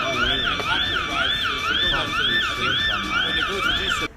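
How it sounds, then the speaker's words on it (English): A rising-and-falling electronic alarm wails steadily and loudly, cycling repeatedly, with murmured voices and background noise beneath it. "There was an alarm going off the entire time."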